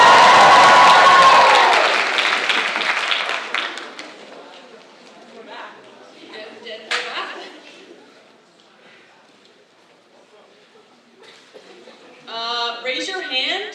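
An audience at a winter film festival screening bursts into loud applause and cheering that fades over a few seconds. Scattered claps and crowd murmur continue beneath a voice speaking to the room, with a brief renewed swell near the end.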